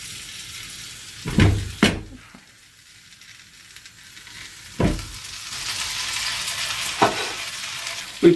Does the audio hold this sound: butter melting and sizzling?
yes